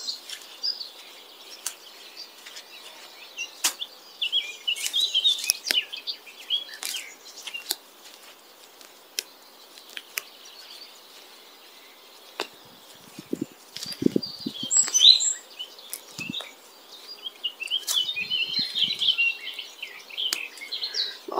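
A tit sings from a tree in a garden, bright repeated chirps and short phrases scattered through the clip over quiet outdoor background, with occasional rustles and knocks nearby.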